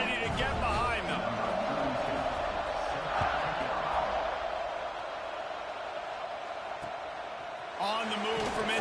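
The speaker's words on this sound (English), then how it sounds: "this crowd now ready to get behind them" A stadium crowd roars at kickoff in the College Football 26 video game, a broad, sustained wash of cheering that swells near the end.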